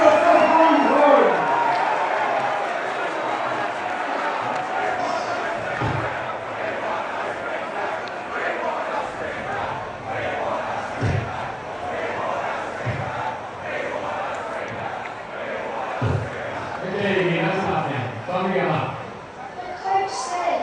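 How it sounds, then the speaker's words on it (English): Large crowd of Australian soccer fans gathered at Tumbalong Park in Sydney for Australia v Egypt, cheering and shouting continuously for the Socceroos, a dense roar of voices with scattered whoops and yells swelling near the end. "let's keep cheering the Socceroos, folks"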